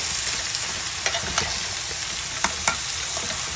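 Bottle gourd sautéing in a pan, producing a continuous frying sizzle punctuated by a few sharp clicks and scrapes of stirring.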